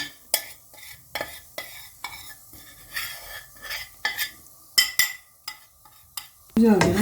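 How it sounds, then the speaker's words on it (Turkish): Flour is stirred and toasted in a pan for béchamel sauce. A spoon scrapes the pan in steady, repeated strokes over a soft sizzle, close and fairly loud, and a brief louder burst comes at the end. "karıştıra karıştıra kavuralım bakalım"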